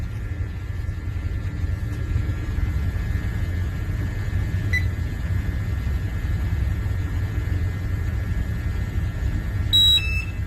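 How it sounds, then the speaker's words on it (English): An oxygen gas meter alarm sounds in a hazardous, oxygen-poor atmosphere during a mask test, a thin steady electronic tone sitting over a low background rumble, with a brief chirp midway and sharper beeps near the end. "You can hear the alarm going off."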